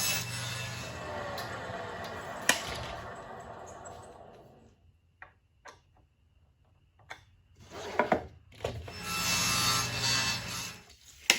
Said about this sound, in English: we're ready to make our 19-inch cross cuts.